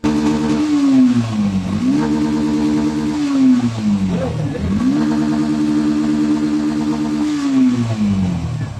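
Yamaha FZ V3 motorcycle engine idling and revving in a workshop during a charging system test, loud and close, with repeated rises and falls in pitch and a rattling mechanical clatter.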